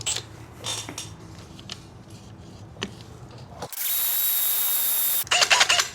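A hammer drill fitted with a Diablo bit bores a hole in a wall while mounting a Giraffe Tools pressure washer, a steady loud whine for about a second and a half, then a rough burst of drilling, after scattered knocks and handling sounds.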